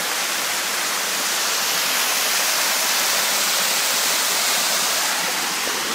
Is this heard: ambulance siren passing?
no